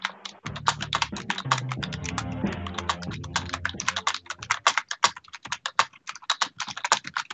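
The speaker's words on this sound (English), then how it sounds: "Is my typing super loud?" Rapid, close keyboard typing with dense clicking keystrokes, clattering steadily then thinning into scattered taps.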